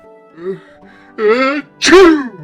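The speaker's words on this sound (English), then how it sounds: "I just recorded myself sneezing" A person voices a staged sneeze up close: a soft breathy catch, a longer rising inhale, then a loud, forceful burst to finish, with no other sound around it.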